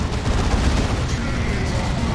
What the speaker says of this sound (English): Bright Lances are firing